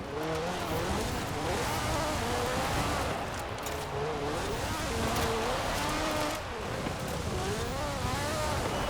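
A racing car engine in Forza Horizon 4, run hard through a spring championship race, revving up and down steadily as gears are worked repeatedly, with tire noise, loud and continuous for the whole stretch.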